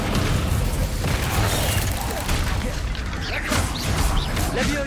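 Incendio fire spell cast repeatedly in the Hogwarts Legacy video game, a dense roaring, crackling burst of magical fire with thuds and crashes, loud and continuous throughout amid game combat noise.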